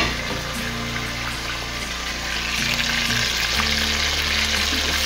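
Crushed whole spices fry in a hot karahi for khara masala karahi, giving a steady loud sizzle with faint clinks and stirring sounds and no talking.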